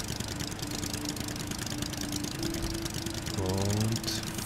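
A video game outboard motor in Stranded Deep drones steadily throughout, a buzzing, slightly knocking engine hum that swells briefly near the end.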